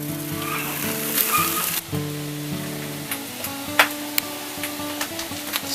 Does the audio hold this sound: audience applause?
no